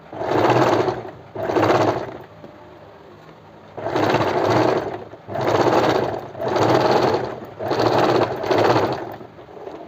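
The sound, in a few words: sewing machine stitching the second seam of a kurti neck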